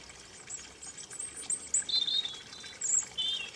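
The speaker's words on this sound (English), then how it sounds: "we will surely hear the song of the robin" A European robin sings in the Maltese countryside, a string of thin, high, warbling phrases with short pauses between them, clear but moderately distant over a soft background hush.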